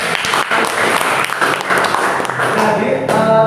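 A classroom of students breaks into applause, dense and sustained for a few seconds with a brief lull near the end before the clapping picks up again.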